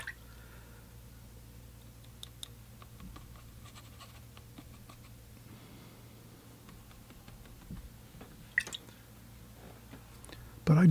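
A brush dabs and splashes watercolor paint while painting a vase and flowers. The taps and wet dabs are faint and scattered over a quiet room hum, ending with a louder bump.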